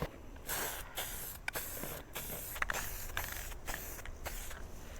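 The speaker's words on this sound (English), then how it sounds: "let's go ahead and paint. I have some semi-gloss black Rust-Oleum" Semi-gloss black Rust-Oleum spray paint is applied to parts of a 1967 Plymouth in close, loud aerosol hisses, repeated bursts separated by short gaps, with no talking.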